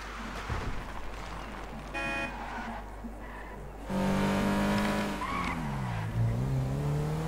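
2015 Toyota Corolla engine revving in a first-person driving game, a moderately loud car drone with rising and falling pitch as it accelerates and shifts, heard alone.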